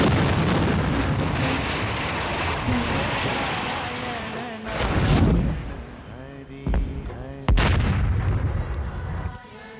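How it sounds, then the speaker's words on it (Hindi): Deep, rumbling booms of glaciers breaking roll in from far away in the Himalayas near Badrinath, over a constant windy background, a few heavier thuds standing out near the end. "दूर से कहीं विस्फोट की आवाजें आ रही हैं। शायद ये ऊपर ग्लेशियर टूट रहे हैं।"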